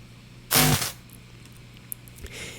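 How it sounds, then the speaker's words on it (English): A short, loud crackling buzz of electrical noise bursts out, then fades to a faint hum with a few small clicks and a light rustle; a guitar cable jack being plugged into an electric guitar. "And then the next two are just some electricity noises."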